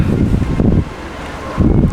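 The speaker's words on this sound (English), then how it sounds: "Sorry if it sounds a little muffly. It's very windy today." Gusty wind at Disney's Port Orleans French Quarter Resort buffets the microphone with low rumbling bursts, easing briefly in the middle before surging again.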